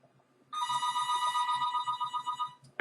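A landline telephone bell rings loudly and close, one sustained metallic trill that pulses rapidly for about two seconds before cutting off, with no talking over it.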